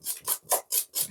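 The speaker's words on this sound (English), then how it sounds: "I'm just using a whisk to show you that if you don't have a mixer" A hand whisk beats cake batter in a bowl in five quick, even rasping strokes, close and fairly soft, with no talk.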